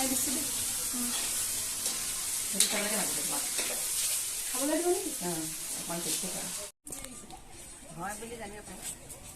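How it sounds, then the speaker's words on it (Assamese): A dry fry dish sizzles in a pan while being stirred, with scraping strokes that come and go, and people talk over the frying throughout. "এয়া ড্ৰাই ফ্ৰাই, এয়া হৈ গ'ল নেকি?"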